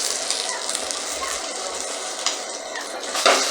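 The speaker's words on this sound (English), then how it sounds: "Flip our egg on the other side to see whether it's cooked." An egg fries in a pan with a bright, continuous close sizzle, a brief scrape as it is turned over near the end.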